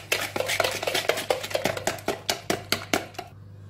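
A whisk or spoon mixes madeleine batter with vanilla in a bowl, striking the sides in a quick, steady rhythm of close, clicking taps against a low background hum.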